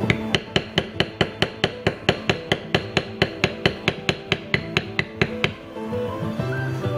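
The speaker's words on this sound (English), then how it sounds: "This is a Craft Tool Pro. It's a B2076. And what you do with the leaf liner is you come through, butt it up to your stem," A Craft Tool Pro B2076 leaf liner is struck with a mallet while tooling leather, about twenty sharp, evenly spaced taps close up, then stopping, leaving a quiet tail with a faint hum.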